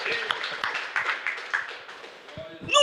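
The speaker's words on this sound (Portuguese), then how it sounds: "Aplaude se está claro." Members of a worship-service congregation clap in a brief, irregular burst of scattered handclaps mixed with murmuring voices, ending as a voice rises at the close.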